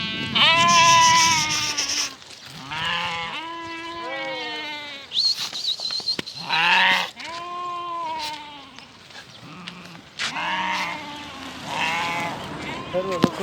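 Ekazak ewes and their lambs in a livestock sale pen bleat loudly and close by, with repeated overlapping calls from several animals throughout.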